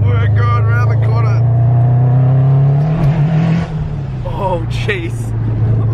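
A 2008 Subaru WRX STI GRB Spec R accelerates hard, its engine roaring loudly from inside the cabin with rising revs and a gear change, while passengers exclaim over it.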